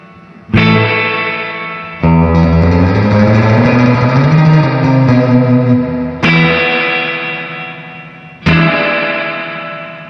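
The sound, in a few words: guitar amp spring reverb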